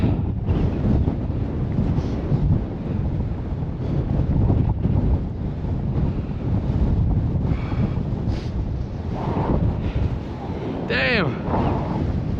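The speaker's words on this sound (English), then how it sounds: "It's so windy." Strong gusting wind buffets the microphone atop Kumbhalgarh Fort in India, a loud, constant roar that swells and eases over the whole stretch, with a brief voice near the end.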